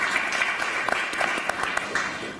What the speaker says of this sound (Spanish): Damos la bienvenida al señor Roy Barbosa con un fuerte voto de aplausos, por favor.